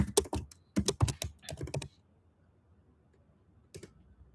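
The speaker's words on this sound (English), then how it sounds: "So I'll just probably type it here" Fingers typing on a computer keyboard up close: quick bursts of clicking keystrokes, a pause of near silence, then one short final burst of taps.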